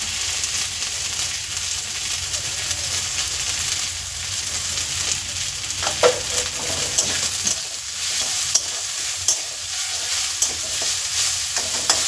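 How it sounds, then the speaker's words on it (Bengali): Suryi leafy greens being stir-fried in a pan with salt, a loud continuous sizzle with scraping stirs and a few clinks, no voices. "তো শাকটা ভালো করে ভাজা হোক।"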